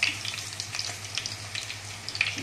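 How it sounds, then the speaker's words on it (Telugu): Onion paste frying in hot sesame oil produces a soft, continuous sizzle with light crackles and a low background hum. "ఫ్రెండ్స్ నూనె కాగింది, ఉల్లిగడ్డ వేస్తున్నాను."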